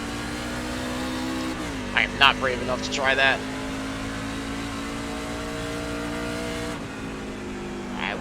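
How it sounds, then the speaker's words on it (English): NASCAR trucks racing at New Hampshire in a racing video game, a steady droning engine hum with a shift in pitch, sustained beneath someone speaking briefly. "Trucks going everywhere."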